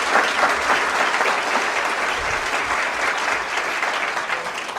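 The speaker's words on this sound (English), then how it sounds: "Can we give her a round of applause for her great leadership?" Audience at a Developmental Disabilities Day legislative event breaks into loud, sustained applause from many hands, dense and continuous throughout without pause.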